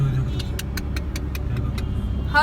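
Cars stuck in a traffic jam at a bend in the road, heard as a steady close engine rumble with faint rhythmic clicking and a brief horn-like tone at the end.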